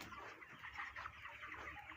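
Faint, quiet clucking from several broiler chickens sitting in the sun murmurs on and off in the background, with no one speaking.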